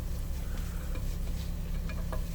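Oyster mushrooms stir-frying in avocado oil in a pan, a steady close sizzle with low rumbling stirring and a few faint clinks, no talk.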